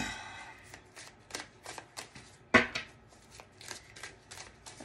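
A deck of Santa Muerte tarot cards is shuffled by hand, with quick riffling and flicking bursts in an irregular rhythm, close and fairly quiet, with a sharper snap partway through.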